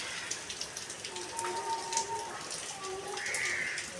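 Steady rain patters on surfaces outdoors on a rainy day in Malappuram, a continuous soft hiss with scattered drop ticks, while faint voices and a tonal sound rise in the middle and near the end.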